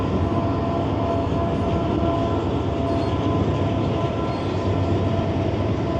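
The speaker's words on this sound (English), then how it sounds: "It's so damn loud, them trains." Freight trains rolling past on a double track near Sandusky Bay, a loud, unbroken close-range rumble of railcars that holds steady for several seconds with no voices.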